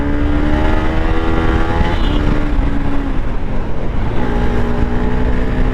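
A Bajaj Pulsar RS200 motorcycle engine roars loudly and steadily at full throttle in the city, its pitch rising and dipping slightly as if revved hard, with no voices.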